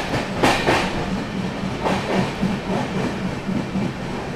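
A passenger train rolls over a bridge across a dangerously overflowing river near Nellore, wheels clicking in a steady rhythmic clickety-clack with a soft hiss, heard from inside the carriage.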